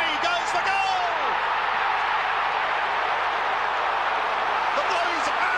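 Carlton fans roar at the 1993 AFL Grand Final against Essendon, a dense, steady stadium crowd noise that stays loud and unbroken throughout, with a few sharper bursts rising out of it.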